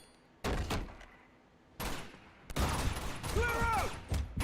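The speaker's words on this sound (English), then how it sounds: "Did he just drop a grenade?" A grenade blast in the Uncharted video game, part of a series of sharp, heavy booms and gunfire bursts spaced through a loud action scene, with a voice speaking briefly among them.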